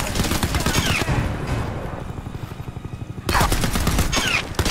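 Bursts of rapid automated gun turret fire from the video game Crysis 3, two loud volleys of rattling shots separated by a quieter stretch, with game sounds in the background.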